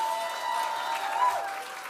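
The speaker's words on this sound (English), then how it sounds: "Can we get a round of applause to Jimmy Flynn?" Audience clapping for a student tutor at a charity gala, a steady wash of applause from a hall crowd lasting throughout, moderately loud with a faint tonal hum running beneath.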